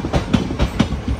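The Wadi–Kacheguda–Nagarsol Express rolls past close by, its wheels beating out a loud, regular clickety-clack with no voices over it.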